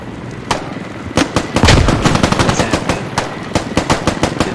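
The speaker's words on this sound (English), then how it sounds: "Helicopter out front." Rapid bursts of loud, sharp machine-gun fire crackle in quick succession in the game Squad, with a heavy low thud midway and a steady background rumble of a helicopter.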